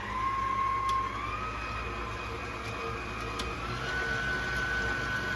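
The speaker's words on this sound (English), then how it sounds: "I'm going to use my handy dandy stand mixer for that" A stand mixer whips meringue for a chocolate pie with a steady, loud motor whine and a constant whirring drone. The pitch rises slightly partway through, and no one talks over it.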